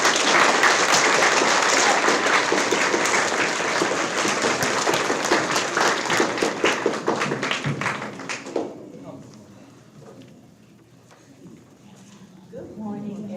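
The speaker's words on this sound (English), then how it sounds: "let's give a round of applause for" Audience at a sixth grade end-of-year school celebration claps loudly and steadily for about eight seconds, then the applause fades out and quiet room sounds and a speaking voice follow.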